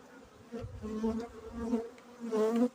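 Honey bees buzz around a hive in mild late-winter weather, a close, wavering drone that swells and fades as individual bees pass near, with no talk.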